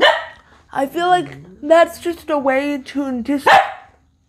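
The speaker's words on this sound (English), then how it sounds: "I'm sorry about my dog." A dog barks in short bursts at the start and end while a person talks nearby, the barks overlapping the speech.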